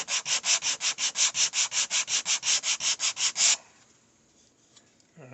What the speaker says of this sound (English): Sand it till you get it where you like it.